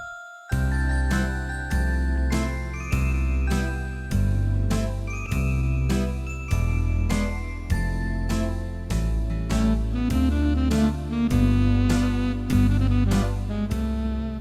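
Bell preset played on a digital keyboard, a steady run of bright chiming tones struck about once a second over a sustained low accompaniment, loud and continuous with no talk.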